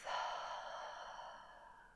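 A slow, airy exhale out through the mouth during relaxed yoga breathing, a single soft breath that swells quickly and then fades gradually, close and fairly quiet.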